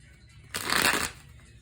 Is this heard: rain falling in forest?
no